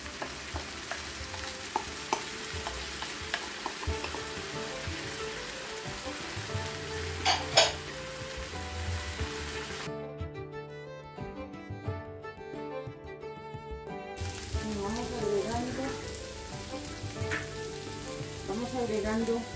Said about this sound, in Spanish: Agregamos el arroz para tostarlo un poquito.